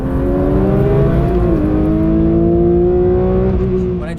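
A 2024 Porsche 911 S/T engine revs hard and loud, holding a rising, snarling tone for about four seconds, with a brief dip in pitch before it climbs again.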